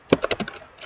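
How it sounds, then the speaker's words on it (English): Quick burst of keystrokes on a computer keyboard while entering a paragraph of text, about five crisp clicks in under a second, close and clear with no talking. "Let me type something real quick."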